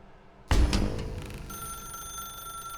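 A telephone rings in the video game The Stanley Parable: a sudden bell-like burst opens into a sustained, shimmering electronic ring that carries on steadily, with no speech.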